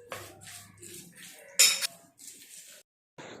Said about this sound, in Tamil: இதையும் நல்லா மிக்ஸ் பண்ணிக்கலாம்.